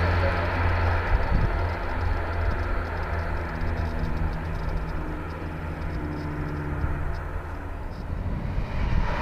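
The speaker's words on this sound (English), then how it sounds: "Northern Trains Class 155 joins the mainline to York." A Northern Trains Class 155 diesel train rumbles past near Colton Junction joining the mainline to York, with a steady low engine drone and broad mechanical noise, fairly close, sustained throughout without pause.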